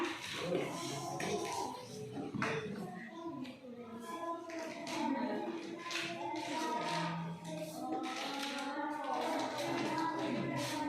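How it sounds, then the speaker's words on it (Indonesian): Classroom applause for students, a loose patter of hand claps from a group with a few voices talking over and around the clapping. "kita beri aplaus dulu"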